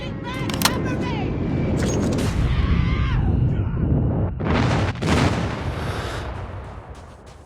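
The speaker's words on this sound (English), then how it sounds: "Friendly airstrike incoming." An airstrike in a Call of Duty game hits with heavy booming explosions and sharp gunfire cracks, dense and loud throughout, while game voices call out over the din.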